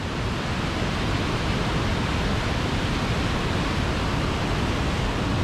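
Close and loud, the Reekie Linn falls on the River Isla in Scotland pour as an unbroken wall of rushing water, steady from start to finish with nothing else heard.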